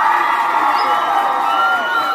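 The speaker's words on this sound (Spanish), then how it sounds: "un aplauso para este grosso" Audience applause and cheering at the Cerebro nightclub in Bariloche, a steady, loud burst of crowd clapping and shouting with no pause across two seconds.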